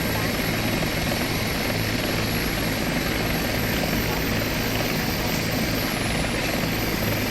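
Bell 412 helicopter in the X-Plane 11 flight simulator, its turbine engine and rotor giving a steady, dense, loud whir with a high whine above, continuous throughout with no pauses.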